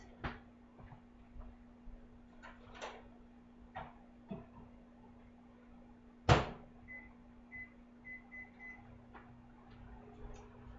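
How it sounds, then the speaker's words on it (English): A microwave oven cooking pasta in a Tupperware round pasta cooker hums steadily with a low drone, accompanied by scattered clicks, a sharp clunk midway, and a few soft beeps afterward. "So we're going to put this in the microwave. I'm going to put it on 10 minutes."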